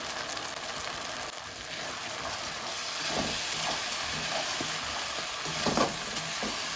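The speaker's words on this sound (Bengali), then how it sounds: "এবার এটা ভালো করে কষাতে থাকবো আমি" Potatoes, green chilli and peas fried with turmeric and salt give a continuous close sizzle, with intermittent scraping strokes of stirring against the pan.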